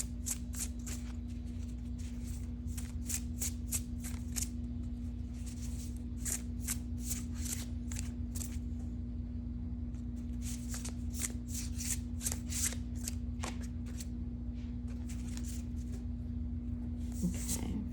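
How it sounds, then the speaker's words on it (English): Tarot cards shuffled on a table, a steady run of crisp riffling bursts in repeated clusters, close and moderately quiet over a constant low electrical hum, with no one talking. "Get some tarot cards out on the table,"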